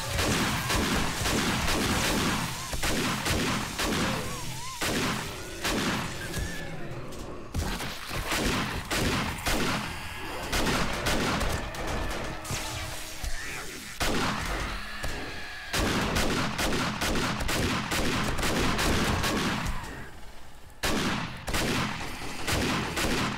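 Repeated shotgun blasts in the zombie survival game 7 Days to Die during a horde night, loud and dense across the whole stretch, mixed with other game sounds and some talk.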